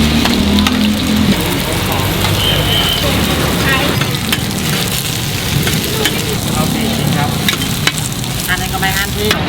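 Chive cakes made with sticky rice flour fry on a Bangkok street-food stall, a loud steady sizzle of hot oil with stirring and scraping, and voices talking faintly underneath.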